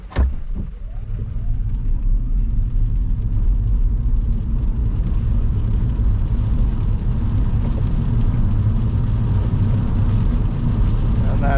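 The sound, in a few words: Hyundai Inster Cross car accelerating from 0 to 100 km/h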